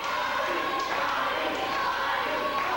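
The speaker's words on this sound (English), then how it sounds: "As the crowd picks up the chant of party." A steady roar from a wrestling arena crowd chanting "party," sustained and fairly loud throughout, with a commentator's voice partly over it.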